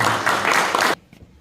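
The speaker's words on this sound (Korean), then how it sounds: "나오실 때 큰 박수로" Loud applause from an audience at a church award ceremony as a recipient is called forward, a dense burst of clapping that cuts off abruptly near the end, leaving a quiet room.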